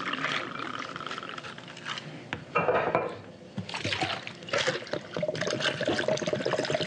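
Liquid poured into a glass for a reposado tequila margarita, a steady trickling pour with some glassy clinks and brief pauses, close and moderately loud, with no talking.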